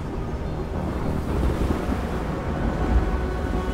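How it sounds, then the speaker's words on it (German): Distant sea rushing like a whirlpool or drain, a broad, steady low roar with gusty swells like wind and surf, with no voices. "Neben dem Schreien der Lederschwingen könnt ihr ein fernes Rauschen wahrnehmen, wie ein Sog, wie ein Abfluss"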